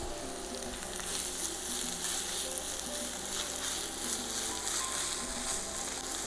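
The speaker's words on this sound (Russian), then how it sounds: "И будем обжаривать 10 минут." Onion and tomato paste fry in a pan for Russian sutochnye shchi made with sauerkraut, giving a steady, close sizzle that holds evenly throughout with no voices.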